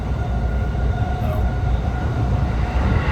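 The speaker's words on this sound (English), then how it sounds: "This train's sitting here out of service." Japanese train stopped out of service between Ofuna and Tokyo Station after a tsunami warning, heard from inside as a steady, loud low rumble and hum of the idling carriage, with no talking.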